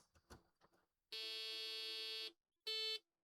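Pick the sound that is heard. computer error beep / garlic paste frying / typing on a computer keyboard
computer error beep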